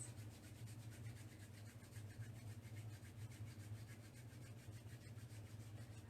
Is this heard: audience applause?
no